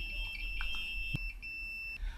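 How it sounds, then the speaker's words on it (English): A steady high-pitched electronic beep from a multimeter's continuity buzzer holds continuously, briefly dropping out then resuming, with a few faint clicks and handling noises underneath, during repair of a Panasonic RX-CS880 cassette player. "we just adjust our ammeter to the buzzer"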